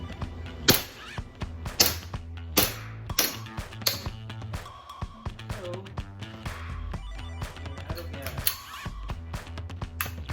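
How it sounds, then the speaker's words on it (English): An Armorer Works VX9301 gas airsoft pistol fires a string of sharp cracks, close and loud, in irregular rapid bursts with brief pauses and some faint talk in between. "second set of 20 rounds in the magazine, power stroke pistol, and we are hot."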